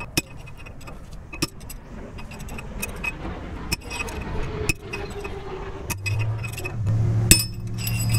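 Metal bearing race being knocked out of a Toyota 4Runner solid front axle, sharp metallic taps spaced irregularly over several seconds, with light clinking and scraping between strikes and a low background hum.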